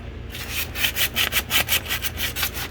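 Hand sanding of a Purple Heart wood pen blank, a rhythmic series of raspy back-and-forth rubbing strokes, close and steady, over a low hum with no talking.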